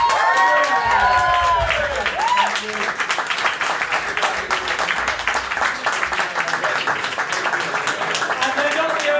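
A crowd at an evening celebration for an advisory firm's tenth anniversary gives a sustained round of applause with some cheering, dense and loud for the whole stretch, while a voice briefly speaks over it.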